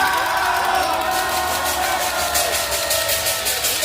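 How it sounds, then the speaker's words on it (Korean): Crowd cheering and shouting at an outdoor political rally in Korea, a loud, sustained roar of many voices that holds steady throughout. "우리 김상진 대표 쪽으로 응원의 함성 질러주시다"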